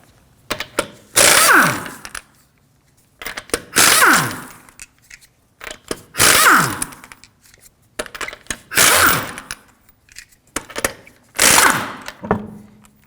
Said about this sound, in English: Now we're going to use a 19mm socket to remove the wheels.